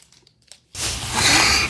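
A hard, solid slime toy from a slime kit is squeezed inside a plastic bag, making a loud continuous crinkling and crunching of plastic that starts abruptly after a brief quiet moment.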